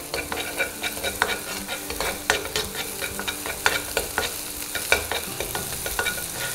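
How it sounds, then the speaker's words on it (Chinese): Beaten eggs are stir-fried in rapeseed oil in a wok, a steady sizzle broken by quick repeated scrapes and knocks of a spatula, close and loud with no talking. "锅里倒点菜籽油，把我们下入鸡蛋， 好，快速的给它捣散"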